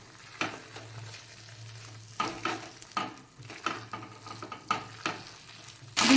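A spatula scrapes and stirs pumpkin with green chillies in a frying pan, with a faint sizzle under about half a dozen distinct, evenly spaced stirring strokes and no speech.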